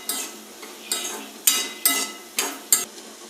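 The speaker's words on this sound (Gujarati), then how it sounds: "આપણે ટોપરાનું છીણ લીધું છે એ તો એમાં એડ કરી દઈશું અને બધું મિક્સ કરી લેશું" A spoon stirs grated coconut into a fried peanut and garlic mixture in a pan, making about six evenly spaced scraping strokes, each one close and clear, with no talking.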